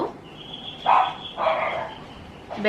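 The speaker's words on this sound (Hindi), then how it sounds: "कोई भी आता है बेनी पागल होता है भौंक भौंक के." A dog barking at visitors at home: a few sharp barks spaced across a couple of seconds, close and fairly loud, with no one talking.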